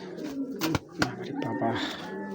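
Big racing pigeons coo in low, rolling calls close by, several overlapping phrases over about two seconds with brief clicks and a faint voice in the background.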